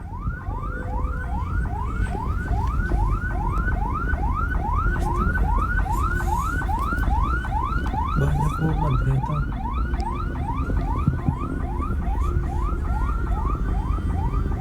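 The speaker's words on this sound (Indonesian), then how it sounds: "suara sirine terdengar, pemirsa, dari ambulans yang menuju ke lokasi kecelakaan maut" An ambulance siren wails continuously with a fast, repeating rising sweep, loud and close throughout, heading to a fatal bus crash on the Lawang–Malang toll road in Indonesia, while a voice speaks briefly underneath.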